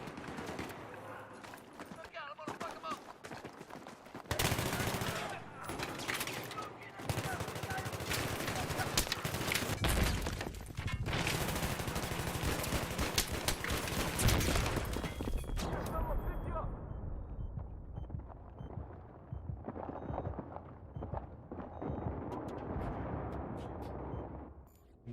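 FAMAS rifle fire in Battlefield 3 on PS3, loud rapid bursts and overlapping gunfire dominating the first two-thirds, then fading into quieter battlefield noise, with a player talking over it.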